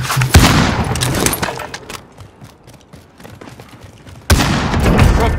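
Loud bursts of gunfire and booms from a Call of Duty Warzone match hit hard at the start, drop back to quieter distant rumble, then burst in again close and heavy.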